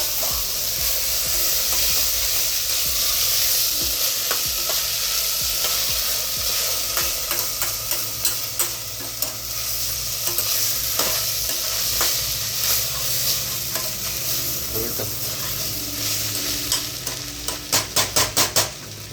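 Rice for paneer biryani is stir-fried in a pan, producing a steady close sizzle with repeated scraping and clinking stirs that grow busier toward the end, with no voices.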